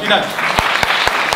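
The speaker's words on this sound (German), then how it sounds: "Ein herzlicher Applaus nochmal für alle, die heute Abend auf der Bühne waren." An audience claps at a school cultural evening of 12th-grade students at a Leipzig gymnasium, with scattered sharp hand claps and a voice briefly speaking over the applause.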